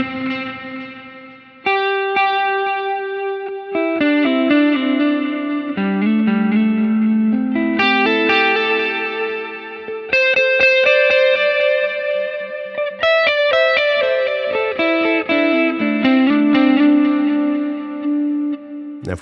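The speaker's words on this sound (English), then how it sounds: "you'll notice that reverb kind of masks those delayed repeats" Electric guitar melody played through a Line 6 Helix Heliosphere delay with reverb, clean sustained notes trailing into washed, overlapping repeats that the reverb smears together, steady and fairly loud with no talking.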